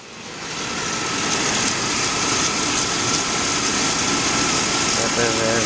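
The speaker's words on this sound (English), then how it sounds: "Keep the engine running." A car engine idles steadily and close by while its cooling system is flushed, a constant drone that stays even throughout after a short fade-in.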